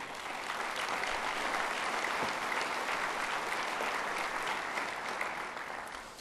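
An audience at a 2012 State of the City address breaks into a sustained round of applause, a dense, steady wash of many hands clapping that holds evenly for several seconds before easing slightly.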